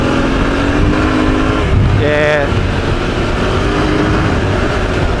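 An adventure motorcycle's engine revving after a clogged Unifilter pre-filter was cleared from its snorkel, a loud steady drone with a rising and falling rev in the middle, and a brief spoken word over it.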